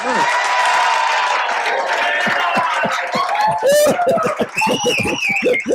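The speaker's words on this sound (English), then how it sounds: "Just give her a nice big round of applause." Audience applause and cheering erupt at a live hypnosis comedy show, loud and dense, with scattered claps and crowd voices building through the room.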